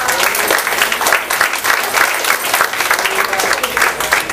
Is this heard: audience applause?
yes